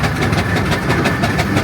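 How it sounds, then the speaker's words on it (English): Garrett agricultural single-cylinder steam traction engine running at a steam and vintage rally, a steady rhythmic chuffing beat repeating several times a second, loud and close with no voices. "Lovely Garrett agricultural single"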